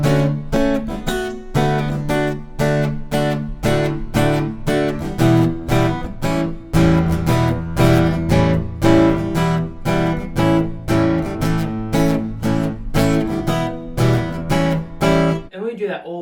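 An acoustic guitar strums the chords of a song through the first half of the first verse, in loud, even, rhythmic strokes that ring close up and stop abruptly at the end.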